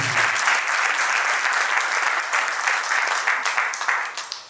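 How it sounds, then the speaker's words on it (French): Steady applause from a crowd at a civil wedding ceremony, sustained clapping at full volume that thins slightly toward the end. "Vos applaudissements, mesdames et messieurs."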